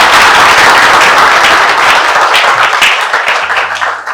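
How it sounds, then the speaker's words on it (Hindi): Loud, dense audience applause and clapping fills a hall at a shipping career event, intense and close, tapering slightly near the end. "तो तालियां हो जाए फिर एसएमबीडी के नाम पे।"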